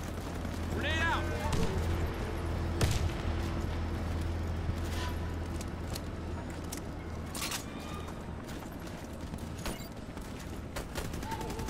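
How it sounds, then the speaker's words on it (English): A grenade goes off in the shooter game Warface with a sharp blast partway through, surrounded by scattered gunfire and other busy game effects. "Grenade out."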